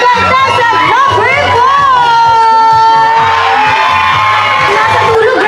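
A crowd of kids and adults at a birthday party contest shouts and cheers loudly and continuously, with whoops and excited babble close by and an amplified host voice over the top.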